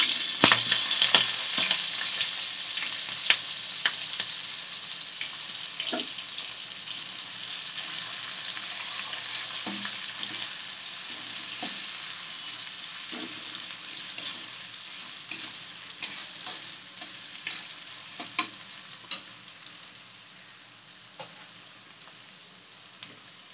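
Chopped onion and split green chillies fry in a pan for a pilaf-style pomfret fish curry, giving a steady, close sizzle with scattered clicks and scrapes of stirring that slowly quiet toward the end, with no talking.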